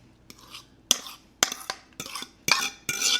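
A utensil scrapes and taps against a bowl while mashed bananas are folded into smooth banana bread batter, a series of about six sharp strokes in an irregular rhythm, close and fairly quiet.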